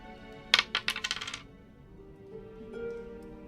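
Dice rolled for a tabletop role-playing game clatter in a quick burst of sharp, decaying clicks that fade out, heard up close with no talking.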